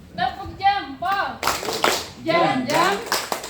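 An audience performs the 'tepuk jempol' clap routine, sharp bursts of hand claps alternating with group chanting and a leader's voice, loud and close, clapping in short rhythmic clusters between the spoken parts.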